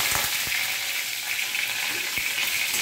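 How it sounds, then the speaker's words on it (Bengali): Dried red chili, cumin seeds and home-grown bay leaf sizzle in hot oil as a tempering for a Bengali pointed gourd and pumpkin curry: a steady, close, hissing fry with a few sharper crackles and pops, no voices. "এই প্রথমে আমি লঙ্কা আর জিরা ফোড়ন দিলাম"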